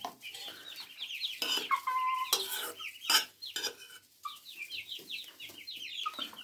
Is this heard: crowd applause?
no